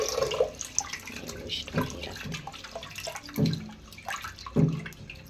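Tap water runs into a vessel to rinse toor dal in a home kitchen, with steady splashing and several louder pours and swishes as the lentils are washed nearby.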